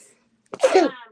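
A single sharp sneeze bursts out close and loud after a moment of near silence.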